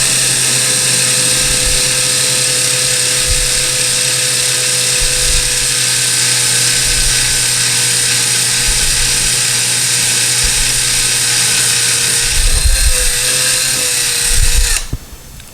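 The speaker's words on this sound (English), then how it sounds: "Be careful as you're drilling, because when you break through the drywall in the back, you don't want the drill to hit into the tile and split it." Power drill boring slowly through a tile wall and the drywall behind it while mounting a towel rack, a loud sustained high whine held steady with faint low knocks, ending in a brief surge and cutoff.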